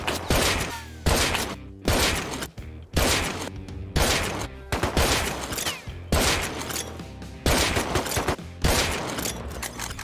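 AK rifle gunfire in the survival game Rust rattles out in loud, rapid automatic bursts, roughly ten sustained volleys with brief gaps between them, close and dominant throughout.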